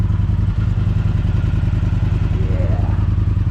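An Indian motorcycle engine idles close by with a loud, steady low throb and a fast mechanical pulse, a faint rising whine appearing briefly toward the end.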